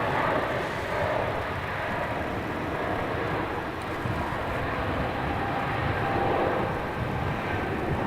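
Emirates Airbus A380 at night at Melbourne Airport, a steady broad jet roar heard from a distance that holds even and continuous throughout.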